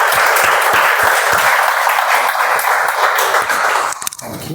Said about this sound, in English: Please help me welcome Toastmaster Samir onto the stage, please. With a huge round of applause,